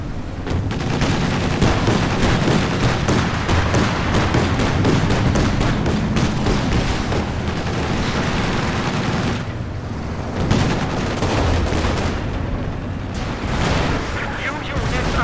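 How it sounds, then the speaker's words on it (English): Heavy gunfire hits the HQ in Company of Heroes 2, a constant barrage of shots, machine-gun rattle and artillery-like booms that stays loud and dense, dipping only briefly near the end. "The enemy is firing on our HQ."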